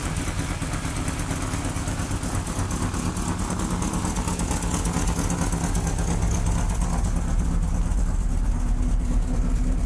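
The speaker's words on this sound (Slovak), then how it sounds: "pozrite sa, jak šlapí motor" A Fiat car engine runs steadily at idle, a dense, even clattering rumble that is loud and close and holds constant for the whole stretch with no talking.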